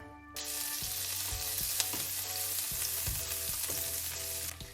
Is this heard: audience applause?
no